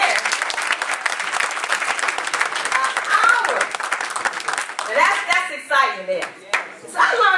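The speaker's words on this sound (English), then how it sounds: "somebody gonna clap up in here" Audience clapping fills a room in a steady, dense wash, loud at first, then thinning into scattered claps as voices begin talking over the tail end.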